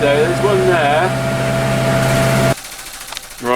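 A tractor engine idles steadily and close by, a continuous low drone with a faint vibrating hum, then it cuts out and leaves near silence.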